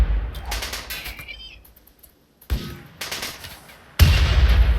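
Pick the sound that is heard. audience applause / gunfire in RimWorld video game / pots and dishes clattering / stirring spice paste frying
gunfire in RimWorld video game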